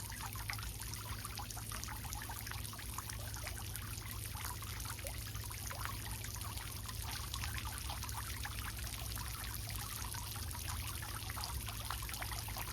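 Water in a garden pond flows and trickles steadily, a continuous close splashing wash with no voices over it.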